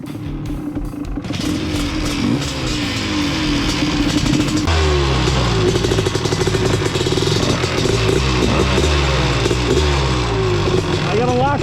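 Honda ATC 250R and Tri-Z three-wheelers drag racing, with loud, close engines revving hard and rising in pitch after a brief lower start, sustained throughout with clattering mechanical noise.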